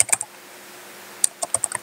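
Clicky keystrokes on a computer keyboard while text is typed into an Adobe Illustrator file, a few taps at the start, then a pause, then a short burst of taps, close and alone.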